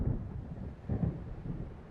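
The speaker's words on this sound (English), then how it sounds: "It seems there's a storm coming." Low rolling thunder rumbles on an approaching storm in the Alan Wake game, a steady dark roar with two swelling peaks, no voices over it.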